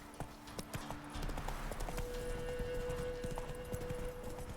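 Horse hooves gallop in The Witcher 3 video game, a quiet, steady clip-clop rhythm that runs continuously under faint ambient game sound.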